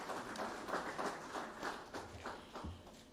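An audience at a dairy value chain report launch gives a round of applause, scattered light clapping that is faint and distant.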